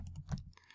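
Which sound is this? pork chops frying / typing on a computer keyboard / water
typing on a computer keyboard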